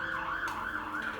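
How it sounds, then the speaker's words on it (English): An emergency vehicle siren passes with a rising and falling wail, fairly faint and distant, heard alone for just over a second. "there's a siren going past."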